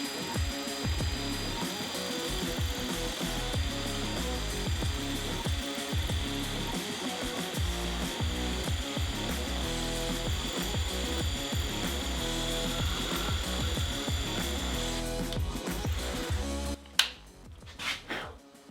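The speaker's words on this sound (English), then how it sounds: "So it can drill through a cinder block." FEIN 12V cordless drill with a Tapcon bit boring into cinder block, a steady high whine with rapid grinding chatter that runs continuously before stopping abruptly near the end.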